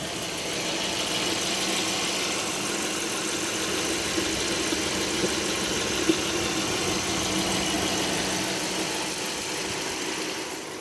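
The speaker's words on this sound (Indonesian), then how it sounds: "Seperti ini suara di mesin Baleno hatchback tahun 2017 ini." Engine of a 2017 Suzuki Baleno hatchback with automatic transmission idling steadily, a smooth, even hum heard up close for the whole stretch, with no talking.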